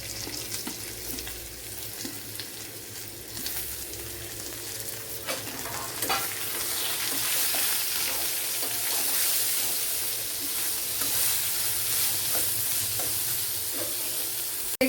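Sliced onions sautéing in a pan with cashew nuts for chicken kurma, a steady sizzle with stirring scrapes throughout, growing slightly louder partway through, close and alone with no talk.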